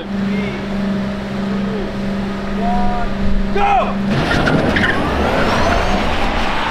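A Porsche GT4 RS holds a steady, droning engine note at standstill, then bursts into a loud, close roar with tire noise as it launches forward.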